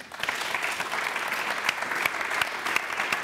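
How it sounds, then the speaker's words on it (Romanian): Studio audience applauding on a game show, a dense, steady burst of clapping heard close and alone for a few seconds. "aplauze pentru Cati"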